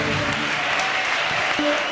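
A crowd at a church gathering claps to welcome priests forward, a dense, steady wash of applause that runs throughout with no voices on top.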